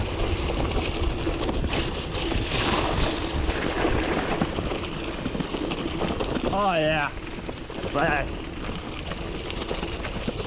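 A bicycle rolls through a creek crossing on the Arroyo Seco Trail, giving a steady rushing, spraying wash of water, with a brief spoken exclamation partway through.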